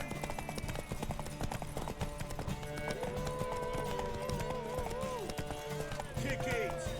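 Horse hooves in The Witcher 3 video game clip-clop in a steady galloping rhythm, moderately loud beneath game voices and music that talk over them throughout.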